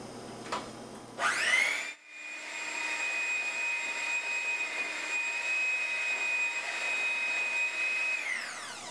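A paint mixer whirs in Safepaint milk paint, starting with a brief burst, pausing, then spinning up to a steady high whine that holds for several seconds before winding down, close and alone.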